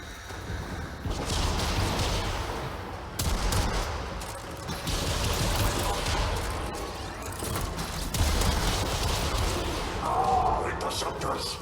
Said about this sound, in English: We're gonna have to use the side guns